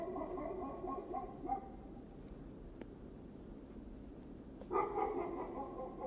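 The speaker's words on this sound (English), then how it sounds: "it sounds like that damn dog Stonewall is alive and well" A dog in a prison video game barks in a few short bursts, once near the start and again toward the end, moderately loud over a steady background hum.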